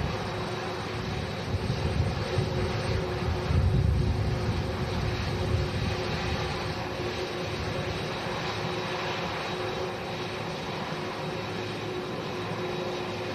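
A Boeing 747 freighter carrying cargo at Manchester Airport gives a steady broadband engine roar. The roar swells slightly near the four-second mark and holds at a moderate, even level throughout.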